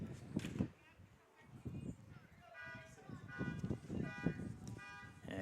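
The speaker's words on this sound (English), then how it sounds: "And someone's car alarm is going off." A parked car's alarm sounds its warbling electronic tones in the background at an outdoor high school softball doubleheader, steady and moderately distant beneath a commentator's continuous play-by-play talk.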